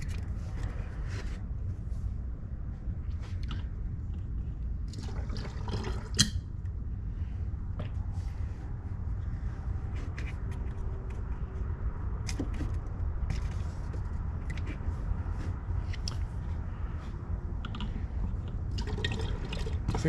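Brake fluid drains from a 2008–2010 Ford Super Duty truck in a faint, steady liquid trickle with occasional drips, set over a constant low rumble, with no voices.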